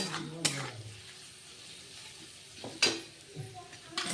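Cabbage stir-fried in a pan, with a soft sizzle under scraping strokes that land in bursts near the start, middle and end, while a voice murmurs faintly in the background.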